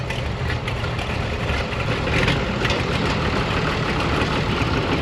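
A vintage 1800 farm tractor engine idles steadily at close range, just started, a low, constant rumble with rough mechanical texture and no talking.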